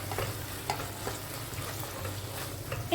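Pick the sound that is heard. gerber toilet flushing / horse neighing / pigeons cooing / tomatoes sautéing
tomatoes sautéing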